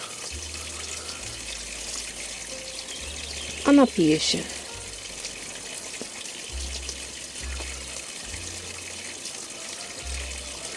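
Steady rush of spring water falling and splashing into a pond in a park, continuous and fairly soft, with a brief burst of nearby speech partway through.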